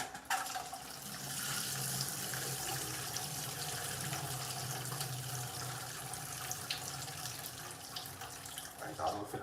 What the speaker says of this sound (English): We'll put the bhaji to drain in the meanwhile.